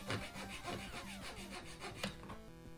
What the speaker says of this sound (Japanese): 木の繊維と同じ方向だとノコギリがスムーズです。